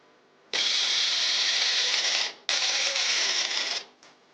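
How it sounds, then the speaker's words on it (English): Soaked fennel and melon seeds ground in an electric kitchen grinder for a thandai drink: two loud, sustained whirring bursts, the first about two seconds and the second slightly shorter, separated by a brief pause. "First we'll grind this"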